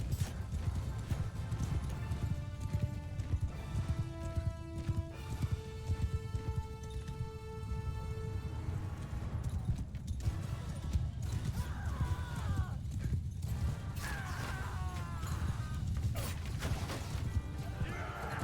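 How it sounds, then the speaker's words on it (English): Cavalry horses in the medieval battle game Bannerlord, steady galloping hoofbeats and occasional whinnies running continuously under music and battle noise, with someone talking at times. "That is the sound of a bunch of people getting run down as they're run like cowards."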